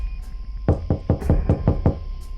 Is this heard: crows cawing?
no